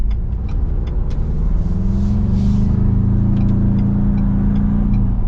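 Steady, loud cabin road noise inside a moving 2025 Ford Bronco Outer Banks with a 4-cylinder engine on 35-inch Sasquatch tires, a constant low rumble and tire roar with a faint engine drone and occasional light ticks.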